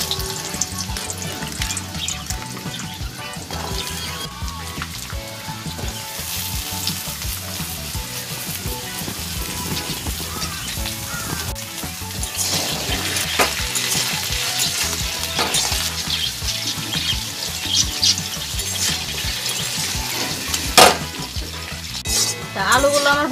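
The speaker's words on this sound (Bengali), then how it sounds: "প্রথমে আলুগুলো ভেজে নেব।" Potato pieces fry in hot mustard oil in a kadai, giving a continuous sizzle. Stirring scrapes and occasional utensil clinks run over it, swelling louder toward the end.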